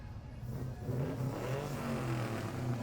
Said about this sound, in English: I think that's a 55 Chevy.